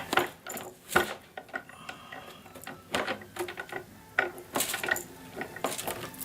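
Irregular clicking and ratcheting bursts from a hand-turned crank mechanism on a Valentine card box, stiffening under layered pressure, close up, with scattered mechanical clacks and no talking.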